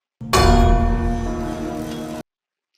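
A large metal bell struck once like a giant anvil to mark the end of the day at an abandoned mining site in Andor; a loud, sharp clang that rings out, sustains and decays, then cuts off abruptly.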